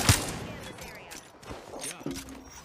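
Wingman pistol gunfire in Apex Legends, a loud sharp shot at the start followed by quieter scattered game sounds and another shot near the end.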